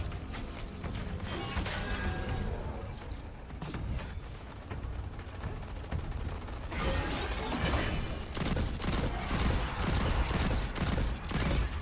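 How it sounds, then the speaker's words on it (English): A two-round burst hand cannon fires in a video game: rapid, clattering shot bursts sit in a dense, loud wash of game noise, with the bursts growing busier and sharper over the final few seconds. "I just don't know how I feel about a 2-round burst hand cannon"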